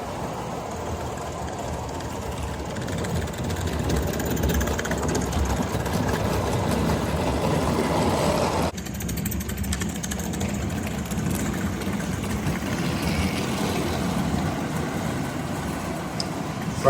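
A Mamod Mk 3 live steam engine runs steadily, a continuous mechanical chugging and hiss with a brief dip partway through, fairly loud and close, with no talking.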